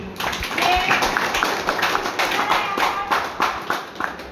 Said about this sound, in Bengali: উনাদের জন্য চাইবো হাততালি।